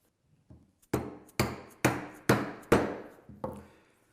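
Sharp mallet blows on a chisel chopping a mortise into soft walnut: one light tap, then five or six loud, evenly spaced woody knocks ringing close by, with no talking.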